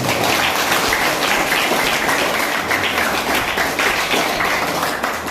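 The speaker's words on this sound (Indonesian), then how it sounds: "Dan tepuk tangan ya." Audience applause at a school event, sustained dense clapping filling the room at steady volume throughout, with no talk over it.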